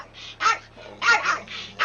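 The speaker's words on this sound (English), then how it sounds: "Hey, no barking, sir. No barking." A dog barks in a series of sharp, close, fairly loud yaps and woofs in an uneven rhythm over a low steady hum indoors.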